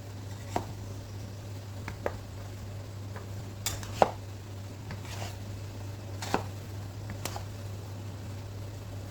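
Chinese-style noodles stirred slowly in a pan, giving sparse soft taps and scrapes spaced a second or two apart over a steady low hum, with no talking.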